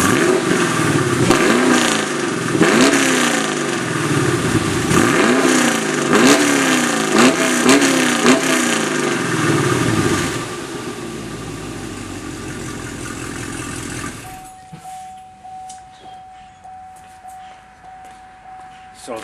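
2010 Camaro SS V8 with LT headers and no X-pipe, revving in repeated rising blips for about ten seconds, then settling to a steady idle that fades out near the end.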